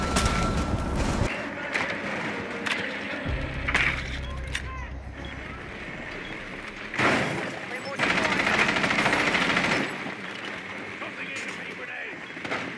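Gunfire in Rainbow Six Siege during a Border team deathmatch: repeated bursts of automatic fire and single shots, loud and close, broken by quieter gaps, with players talking over much of it.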